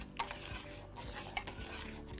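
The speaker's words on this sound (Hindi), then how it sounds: "after a quick stir" A utensil stirs salted hot water in a pot taken off the heat for chakli dough, with faint scraping and a couple of light metallic clinks against the pot, quiet and close.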